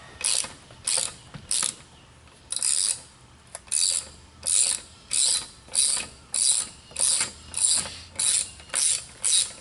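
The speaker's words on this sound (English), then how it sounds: "It takes a 5mm hex head to remove it, so we're going to go ahead and" A ratchet loosens tight 5mm hex-head bolts on a 2007 Mini Cooper S during a diverter/blow-off valve install, giving a dozen or so close, crisp clicking bursts in a steady back-and-forth rhythm with no talking.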